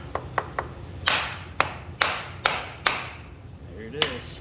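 Repeated sharp metal hammer blows on a 1965 Chevy C30 shop truck, about five hard strikes spaced roughly half a second apart after a few lighter taps, close and loud in a workshop.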